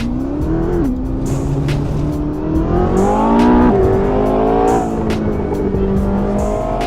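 Ferrari 488 GTB engine in the Assetto Corsa racing game on LA canyon roads, revving hard and loud through repeated upshifts with rising and falling pitch, high tire and exhaust noise throughout, no talk.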